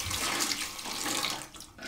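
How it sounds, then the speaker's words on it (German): Water poured out of a houseplant saucer, a continuous splashing stream that runs for well over a second, then thins and trickles away near the end; close and fairly quiet, with no talking. "ich werde das Wasser jetzt rausgießen hier"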